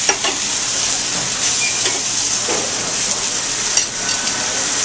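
Mexican corn seasoned with sea salt cooks in a hot pan, giving a steady, close sizzle and hiss with faint scraping stirs now and then and no voices.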